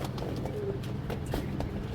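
A pigeon coos with a low, soft murmur under constant background noise, with faint clicks and rustles and no talk.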